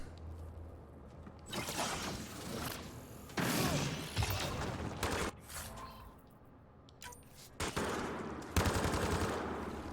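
Enemies in Mass Effect: Andromeda fire guns in scattered bursts of shots and impacts, moderately loud against a quieter combat background, with uneven gaps between volleys.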